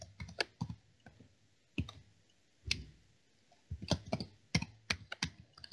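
A computer keyboard clatters in irregular bursts of sharp clicks, some single and some in quick runs, near and fairly clear against a quiet room with no talking.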